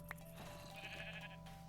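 Sheep bleating in the Minecraft video game, a single short faint bleat at low level over a steady background hum, with no talk.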